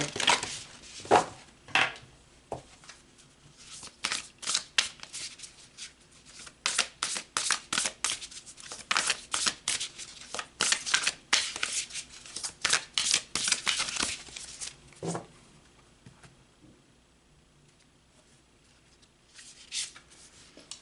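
Tarot cards being shuffled by hand, close and crisp, in repeated rapid riffling bursts of dry papery flicks with brief pauses between, then quieting toward the end.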